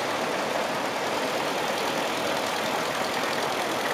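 Engine of a 1951 vintage tractor, built in Hereford, running steadily in a rally parade, a dense continuous mechanical rumble with broad hiss and no speech.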